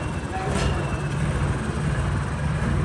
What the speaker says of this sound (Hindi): सोनू भाई अपना ट्रैक्टर घुमा लग रहा है